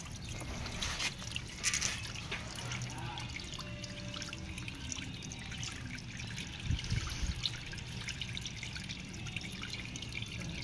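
Water drains and trickles out of the tank of an Azahi air cooler while it is being cleaned, a steady soft dribble with faint drips, low in level and continuous throughout.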